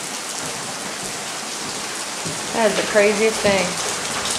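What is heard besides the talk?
rain falling on house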